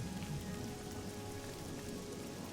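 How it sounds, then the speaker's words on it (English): Steady rain pouring down in the video game Oblivion, a constant, even hiss of heavy rainfall with no pauses, fairly quiet and heard alone. "Oh, it's peeing down with rain."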